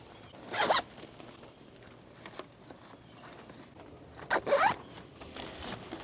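A zipper on a dog car seat cover for a car back seat is pulled twice, two quick rasping zips separated by a few seconds of quiet handling noise, close by.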